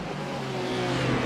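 GTP and GT race cars at the 24 Hours of Daytona create a steady, loud engine drone that builds slightly and carries a continuous broadband roar.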